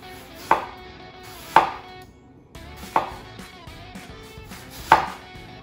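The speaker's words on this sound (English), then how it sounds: "We're gonna do very finely slice this apple here." A knife slicing a Honeycrisp apple thinly on a cutting board gives four sharp, evenly spaced chops across a quiet background.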